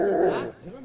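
A police canine-unit dog working crowd security gives a short, loud, close whining bark that tails off into a softer whimper within a second.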